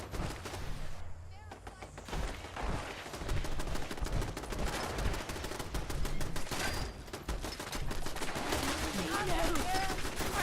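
A spinning-barrel gun in Fallout 76 winds up and fires rapid continuous bursts, dense crackling gunfire filling most of the stretch at moderate loudness.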